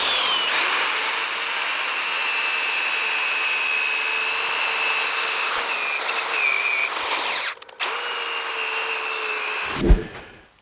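A wooden bowl spinning on a lathe is sanded, giving a continuous loud whirring hiss with a steady motor hum, briefly interrupted near the end as the sander lifts off; nobody speaks.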